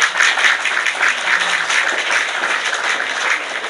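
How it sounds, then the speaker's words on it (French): An audience claps steadily through a political live broadcast, a dense wash of applause held at an even level without any break. "On applaudit."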